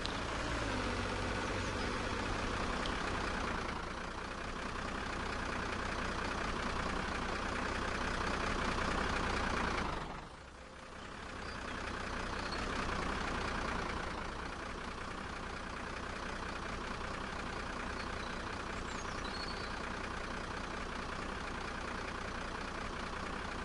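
A milk truck's engine rumbles in the farming game Der Planer Landwirtschaft, a steady low drone that briefly drops away midway before resuming, with no talking.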